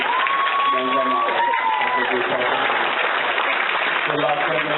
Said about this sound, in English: Let's give a round of applause to our 2013 and our 2011 Men of Maui